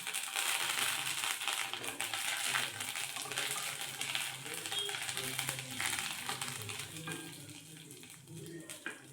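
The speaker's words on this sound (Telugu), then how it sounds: "కరివేపాకు వేగిపోయిందండి." Curry leaves with cumin seeds frying in hot oil, a dense continuous spluttering sizzle close to the pan, with faint talk underneath.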